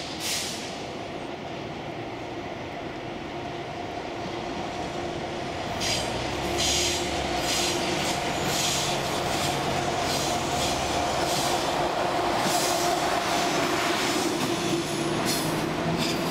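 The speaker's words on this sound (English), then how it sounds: "here comes yet another train" A long train passes through Basel, Switzerland, with a rumbling roll that grows louder, rhythmic clickety-clack over rail joints and brief high wheel squeals, close and continuous with no talking.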